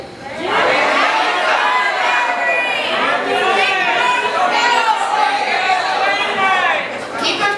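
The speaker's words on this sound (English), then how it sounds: "on 3, shout them out. 1, 2, 3." A rally crowd at a 19th Amendment celebration in Columbia shouts out names together, loud overlapping voices sustained for several seconds and close to the listener.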